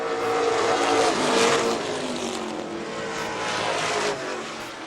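Pro stock race cars running side by side for position at a short-track oval, a loud, steady engine roar that swells and holds for the whole stretch with no voices.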